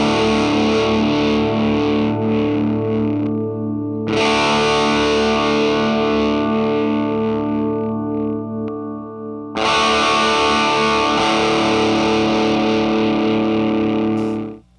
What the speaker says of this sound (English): I hit that first chord with this cranked amp